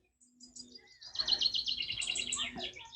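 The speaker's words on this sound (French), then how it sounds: "on entend les oiseaux et tout?" Outdoor birds chirp and twitter in rapid, high, layered calls that build from a faint start into a dense, close chorus.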